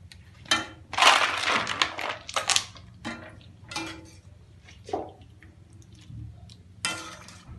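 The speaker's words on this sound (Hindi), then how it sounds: "अब इसे हम ठंडे पानी में डाल देंगे।" Boiled spinach goes into a bowl of cold water, heard as bursts of wet squishing, splashing and utensil clatter close up, separated by short quiet gaps.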